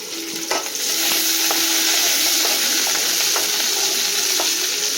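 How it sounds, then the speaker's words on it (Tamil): Onions sauté in a pan for a mango and drumstick sambar with a loud, continuous sizzle. Light scraping and clinking from stirring break in at intervals, and there is no talking. "வெங்காயம் நல்லா வதங்கியாச்சு."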